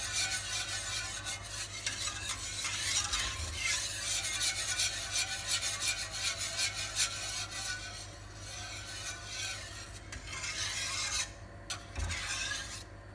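A flan mixture is stirred in a pan over low heat, a utensil rubbing and scraping the bottom in continuous, quiet strokes with a faint background hum and no talking.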